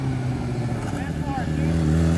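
Honda Fan motorcycle fitted with a Hornet engine, revving loudly nearby with a rising, wavering engine note while people talk over it.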